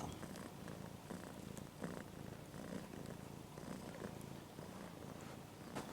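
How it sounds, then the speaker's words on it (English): A mother cat purrs softly beside her five newborn kittens, about two days old, a faint, close, steady rhythmic rumble with no talking. "And that's Tippy and her little kittens"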